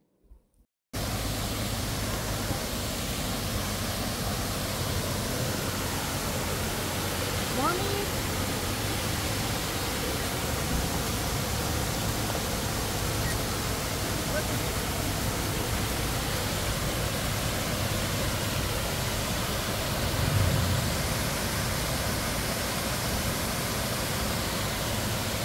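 Ayn Tobruq waterfall in Salalah, Oman, during the 2024 khareef season roars as a steady, dense wash of falling water, continuous and loud from start to finish after a brief quiet opening.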